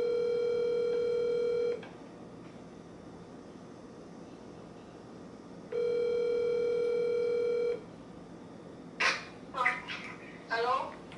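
A telephone rings back while a call is placed, two long steady tones separated by a pause, followed by brief chirpy bursts near the end; no talk.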